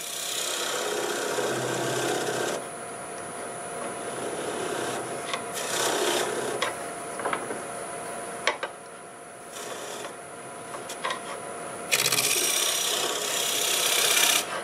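A wood turning tool cuts shavings from a spinning piece on a lathe, giving a steady, fairly quiet scraping and rasping that swells and eases in uneven passes, with no voices.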